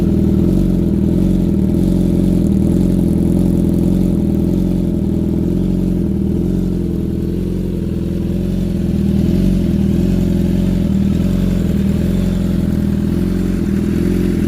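A loud, warmed-up 2018 BMW S1000RR engine with a full Akrapovic exhaust runs steadily up close with a deep, rumbling exhaust, the pitch swelling slightly as it is revved.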